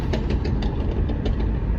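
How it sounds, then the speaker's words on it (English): A passing car engine running with bad timing, heard from inside another vehicle: a rough, loud low rumble with an uneven pulsing beat over steady road noise, no talk. "Bad timing on that car or something."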